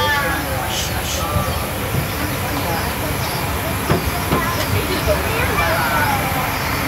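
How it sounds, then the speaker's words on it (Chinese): A small sightseeing train rumbles steadily through a safari park, its continuous engine and wheel noise close and loud, while a guide speaks over a loudspeaker and passengers murmur in the background. "小火车上车转弯，"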